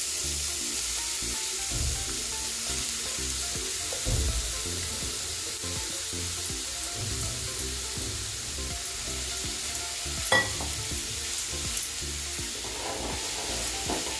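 Grated carrot sautés in a pan, giving a steady close sizzle with scraping stirs and occasional clacks of the spatula against the pan, and no voices.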